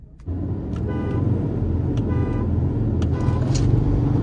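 A Ford Endeavour 3.2 and a Jeep Compass 2.0 launch in a drag race, heard as an engine surge that rises abruptly after a quiet start and holds a loud, steady roar with brief higher tones layered over it.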